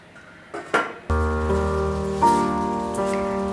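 A metal lid set on a pot of dill and tomato prawn curry: a couple of light clinks, then a sharp clang that rings on in a sustained metallic tone, close and clear, with no talk.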